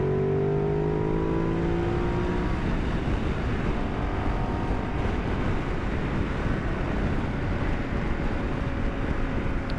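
A Ducati Multistrada motorcycle rides along a road from Sharjah toward Dubai in the early morning, a continuous engine drone blended with heavy rushing wind, close and steady throughout.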